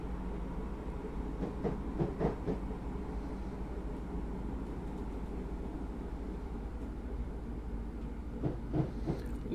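A Class 313 electric train rumbles along in Train Sim 2021 with a low, continuous drone and occasional rhythmic clacks and hisses, moderately loud and without talk.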